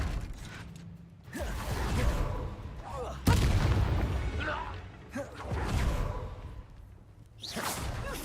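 Depulso spell cast in Hogwarts Legacy, heard as repeated forceful whooshes, booms and creaking mechanisms over several seconds, with a voice speaking between them.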